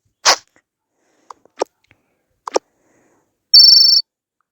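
A mobile phone rings with an incoming call from the caller's mother, one short electronic ringtone burst near the end, clear and close, following a sneeze-like burst and a few faint household knocks.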